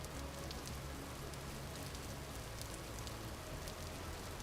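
Steady, even hiss of rain falling in the game Vintage Story, a continuous soft wash with no breaks and no voices.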